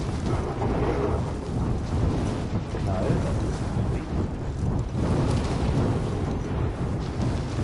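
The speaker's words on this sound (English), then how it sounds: "Ooh! That's lightning." Thunder and a lightning storm rumble in a video game shooter, a dense continuous roar of heavy rain and rolling thunder filling the whole stretch at steady loudness, close and enveloping.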